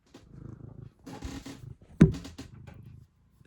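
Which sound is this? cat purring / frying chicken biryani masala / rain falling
cat purring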